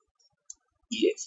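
A computer mouse clicks once, faint and sharp, on a quiet desk, and a voice begins talking shortly afterward.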